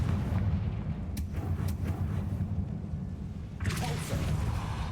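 A Confringo blasting spell fires in Hogwarts Legacy, a few sharp cracks followed by a rumbling booming burst with a whooshing tail near the end, moderately loud over a low continuous game rumble.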